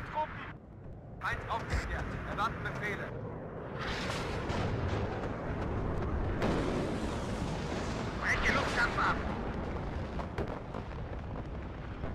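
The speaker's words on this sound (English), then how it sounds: "Our command gets killed by artillery, which is unfortunate." Artillery fire in the Warno real-time strategy game during a 4v4 match: deep rumbling booms and bursts rolling through a dense battle mix of low explosions, with a voice talking over it.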